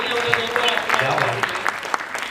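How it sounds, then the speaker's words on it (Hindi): Applause from the crowd at the Hindustan Ratna Awards 2024 ceremony, a steady patter of clapping, with voices audible over it. "तिवारी साहब के लिए जोरदार ताली हो जाए"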